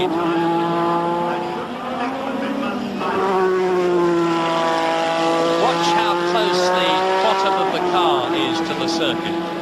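A Formula One race car at the 1986 British Grand Prix qualifying accelerates with a loud, rising high-pitched engine wail that climbs through the gears, while a commentator talks over it.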